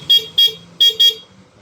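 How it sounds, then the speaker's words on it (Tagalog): Stock horn on a Yamaha NMAX V2 scooter beeps in four short, bright toots, two pairs close together, with the engine idling softly underneath. "So stock horn muna."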